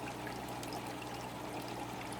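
Water pours steadily into a home aquarium during a water change, a continuous soft rushing stream at low level with no break and no voices.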